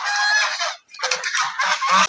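A domestic duck honks loudly and close by while being carried toward water outdoors. Two harsh bursts of nasal calls are separated by a brief pause.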